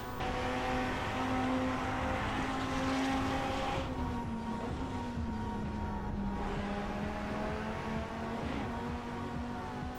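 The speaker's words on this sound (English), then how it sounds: "we can hear the car, giving all it's got, pedal to the floor" Racing game engine drone of a Volkswagen ID.R electric car flat out on the Pikes Peak hill climb, a sustained tone that rises and dips slightly as speed changes, steady and moderately loud with no talk.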